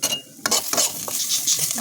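Bitter gourd fries in a pan with a bright, steady sizzle while a utensil stirs and scrapes against the metal in several sharp clinks, close and fairly loud.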